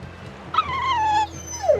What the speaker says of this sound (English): Dogs? Look, lizards, no problem. Walking hunks of armor I can deal with, but dogs? On my ship?